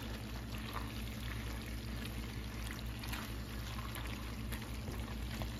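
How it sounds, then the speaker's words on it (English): Starchy pasta water pours into a pot of sauce as a faint, continuous liquid stream, steady for several seconds against a low background hum, with no talking. "put a little of my starchy water into here and add the rest of that sauce"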